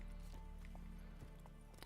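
A horse's hooves clip-clop in a steady galloping rhythm in a video game, approaching amid dense game background sound with no talk.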